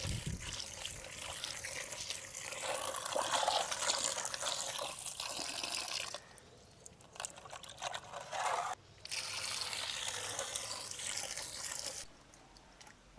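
Okra being washed by hand in water for the third time, with a steady splashing, trickling rush that stops and restarts in a few bursts, close and fairly loud, with no talk.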